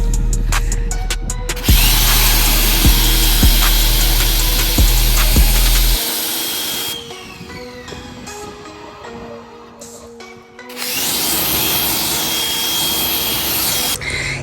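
A pressure washer fitted with a changed tip sprays steadily, a loud broadband hiss running continuously with shifts in intensity as the spray moves, briefly dropping quieter before surging back strong.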